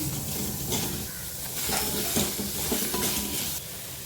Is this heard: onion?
yes